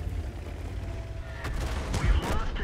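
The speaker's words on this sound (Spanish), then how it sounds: "Aquí viene la artillería." Artillery fire in World of Tanks, a couple of booming blasts with rumbling tails rising over a constant low battlefield drone near the end.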